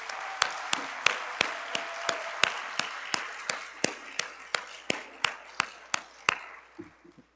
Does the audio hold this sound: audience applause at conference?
yes